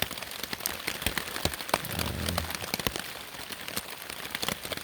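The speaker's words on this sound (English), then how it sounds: "we'll see if the rain continues" Rain pattering steadily on a tent tarp during a chilly night of backpacking in a state forest, a dense wash of small drops with sharper individual taps, close and continuous without talk.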